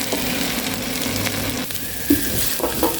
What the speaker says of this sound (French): Nous allons faire frire le riz un tout petit peu avant de continuer la cuisson.